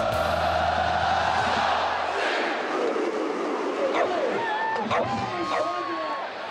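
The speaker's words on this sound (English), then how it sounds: "Just the sight of Ugga puts the crowd in a frenzy." Football stadium crowd before kickoff roars in a frenzy, a loud sustained wall of cheering and shouting with whoops and yells rising out of it in the latter half.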